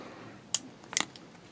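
Folding knife mechanism clicking, two sharp distinct snaps about half a second apart followed by a softer small click, close and crisp in a quiet room.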